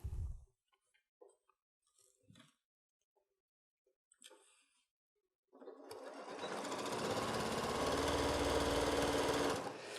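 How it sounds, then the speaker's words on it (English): A sewing machine sewing fabric and foam for a basket starts after a few quiet handling taps and rustles, then runs in one continuous, close, fast whirring stitch that holds steady to the end. "Now I'm just going to sew the bottom all the way across."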